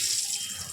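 Whole white cumin and bay leaves dropped into hot oil, giving a brief, even, close sizzle with a bright hissing texture.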